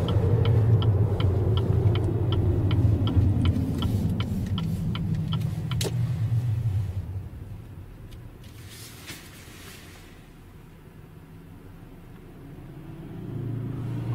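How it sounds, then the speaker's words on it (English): Cars pass on a road nearby, a loud rumbling whoosh that fades away over several seconds, leaving a quieter stretch before another vehicle's rumble approaches near the end; a faint rapid ticking runs beneath the first pass. "I'm going to pull in here just to let the cars pass us"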